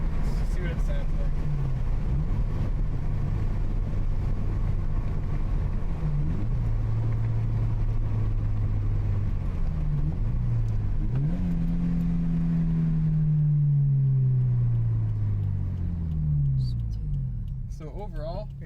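Scion FR-S fitted with a Supertrapp WaveTech muffler revs and drops through a couple of downshifts, a loud, close, deep exhaust drone rising and falling in pitch with each throttle blip before settling, then fading out.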